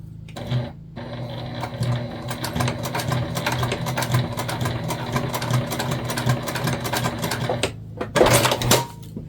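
Sewing a small mini hip bag, a sewing machine hums with a steady low motor tone and rapid needle chatter for most of the stretch, close and fairly loud, ending in a brief burst of handling noise.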